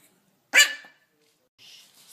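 A dog barks once, close and short, on command for a treat, followed by quiet and a faint high-pitched sound.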